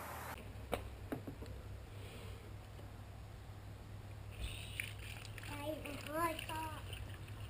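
Sea Foam stabilizer poured from a 2-cup measuring cup while winterizing a Mercruiser boat engine, a soft sloshing, splashing pour over a low hum, with speech and a voice in the background.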